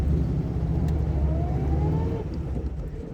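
A ZAZ-965 Zaporozhets running, heard from inside the cabin: a steady, loud low-pitched engine drone with a faint rising whine, continuous and alone.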